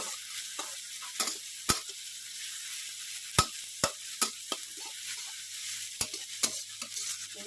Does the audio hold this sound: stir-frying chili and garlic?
yes